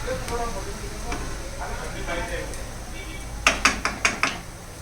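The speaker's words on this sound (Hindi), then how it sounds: "मैंने इसको कुछ सेकंड के लिए फ्राई किए हैं" Food fries in a pan for an iftar meal with a low steady sizzle while someone speaks, then five quick metallic clinks ring out as a utensil strikes the pan.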